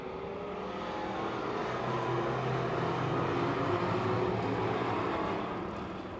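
Pure stock race cars take the green flag for a seven-lap heat race at Pennsylvania Motor Speedway, a dirt oval near Pittsburgh; a dense roar of many engines swells, holds steady and eases slightly, heard from a distance.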